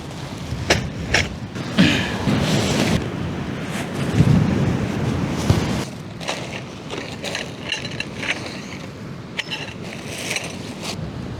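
Strong gusting wind buffets the microphone in loud rushing surges at a seaside motorcycle campsite in Baler, Aurora, Philippines, with waves and open-water noise beneath.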